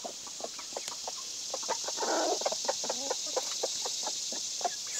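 Free-range homestead chickens cluck in a quick, irregular string of short calls, fairly faint over a steady background hiss.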